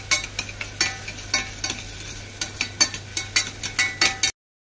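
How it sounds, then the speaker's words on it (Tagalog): Garlic and onion sautéing in a pan, a steady sizzle punctuated by regular scraping stirs of a utensil, close and fairly loud, with no voices before it cuts off abruptly. "Nag-igisa na or sauteed ng aking asawa ng bawang and sibuyas."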